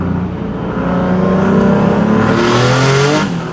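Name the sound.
600 horsepower car engine revving and exhaust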